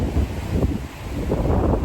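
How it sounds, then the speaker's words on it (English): Gusting wind by the River Nene rumbles against the microphone in a steady low roar, swelling and dipping briefly, with no talking over it. "The wind is gusting."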